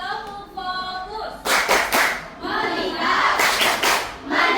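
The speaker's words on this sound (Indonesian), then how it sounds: "Tepuk fokus." A class of students claps out a short patterned chant in a classroom, clustered group claps in quick bursts alongside chanting children's voices, close and lively.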